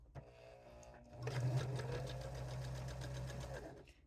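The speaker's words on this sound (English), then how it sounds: "I'm sewing about 1/4 of an inch from the edge" Sewing machine running a straight stitch about a quarter inch from the edge of a ribbon bag: a single switch click, then a steady close whirring stitch that runs for over two seconds and stops.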